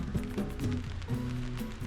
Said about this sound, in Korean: 밥다 먹고 나니까 또 비가 오네요.